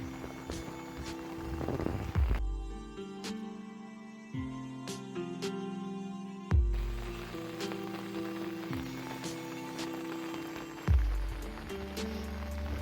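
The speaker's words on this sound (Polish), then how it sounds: "Zaczęło padać trochę mocniej" Rain falling through the night at a lakeside fishing spot on Jezioro Orle, a steady soft patter mixed with tonal music-like sounds and occasional low thumps.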